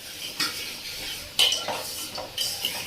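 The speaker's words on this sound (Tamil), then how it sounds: "புளி கரைக்கிறியா? கரை கரை கரை." A hand dissolving tamarind in water while cooking, with soft swishing, sloshing strokes and a few light clinks of a vessel, close by and fairly quiet.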